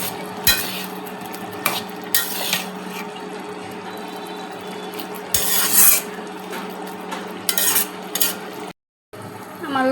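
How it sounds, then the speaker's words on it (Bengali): A spoon scrapes and stirs lata cooked with chepa in a pan, with several close, rasping strokes and light metal clinks over a steady background hum. "একটু নেড়ে দিয়ে দিই।"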